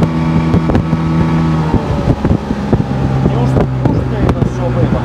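A small motorboat with an outboard motor runs steadily on a lake, its engine drone loud and close with wind buffeting the microphone and a few sharp knocks over it.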